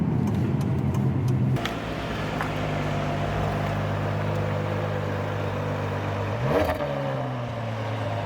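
A car engine drones steadily under load, then blips sharply as a downshift is made and settles into a higher, steady hum, with light clatter from the cabin.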